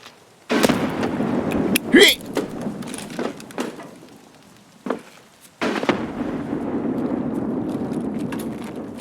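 Two grenades burst in the video game Escape from Tarkov, heard as sharp, loud blasts some seconds apart, each followed by a lingering rumble, while someone talks over the scene.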